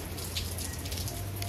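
Light rain falls steadily in the streets of Key West, a dense, even patter with a low background hum and no clear voices.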